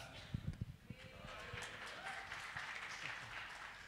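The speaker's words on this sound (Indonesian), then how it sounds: "beri tepuk tangan buat Tuhan kita" A church congregation claps for God during a Sunday service, a dense wash of applause that follows a brief spoken phrase and then holds steady at moderate loudness.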